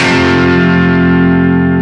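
A single distorted electric guitar chord rings out loud and sustained, slowly fading.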